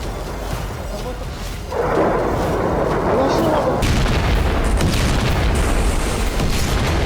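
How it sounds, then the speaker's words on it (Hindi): A ballistic missile fires from an Iranian warship with a sudden loud roaring boom that swells into a sustained rumbling blast, staying heavy and noisy to the end. "ईरान ने अपने युद्धपोत से बैलिस्टिक मिसाइल दागकर बता दिया है"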